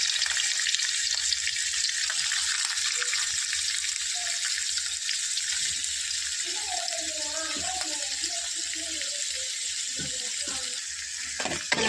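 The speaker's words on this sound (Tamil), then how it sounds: "இப்போ பன்னீரை நெய்யில் போட்டுக்கலாம்." Paneer frying in ghee for a restaurant-style paneer masala, a steady broadband sizzle running throughout at a constant close level, with faint voice-like sounds briefly under it toward the middle.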